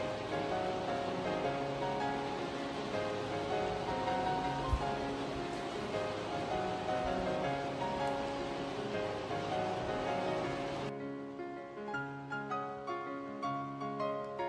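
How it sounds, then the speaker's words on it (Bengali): Steady, dense rain drums on a conservatory roof in a continuous hiss, then thins out near the end into lighter scattered patters. "সারাদিন বৃষ্টি, আর এই কনজারভেটরিতে বৃষ্টির শব্দটা শুনতে ভালো লাগে নাকি?"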